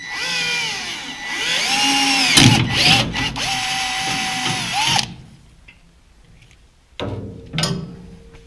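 A power drill bores a hole for a pedal during an Ecotec engine swap into a Baja, whining loudly with rising and falling pitch for several seconds, then dropping to quiet with a few short spurts and clunks.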